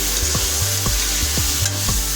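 Chicken pieces frying in a pan with turmeric, a continuous loud sizzle with a spatula stirring and scraping at a steady rhythm about every half second, with no voices.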